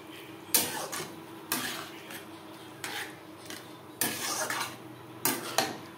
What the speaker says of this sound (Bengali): চিচিঙ্গার সাথে ডাল বেশ ভালো করে মিক্সড করে দেবো।